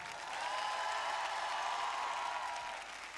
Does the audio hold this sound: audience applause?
yes